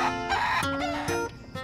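Chickens cluck and a rooster crows on a farm in quick, overlapping calls, close and fairly loud, with no talking.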